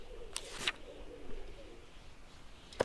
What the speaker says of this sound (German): Diese Tauben sehen hungrig aus und sie sehen mich so komisch an.